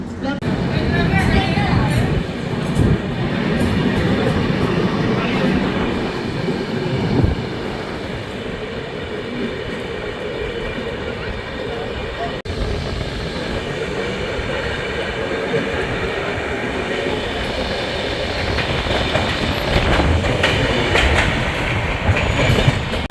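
Continuous rumble and clatter of the 20452 Intercity Express departing Sawai Madhopur, on rails, close and steady throughout, with occasional voices mixed in.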